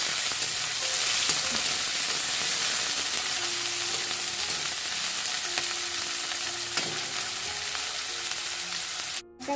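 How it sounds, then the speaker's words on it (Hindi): Onions sizzle and fry steadily in a pan for pasta, a continuous close crackle with faint stirring clicks and a brief clatter at the very end. "जैसा कि प्याज फ्राई हो गया है"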